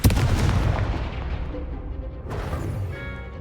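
A Confringo spell blast in the video game Hogwarts Legacy: a loud booming explosion that decays over a couple of seconds, followed by a second rumbling burst of combat noise.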